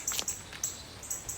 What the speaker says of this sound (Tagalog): Ah, ang ingay daw ng ibon.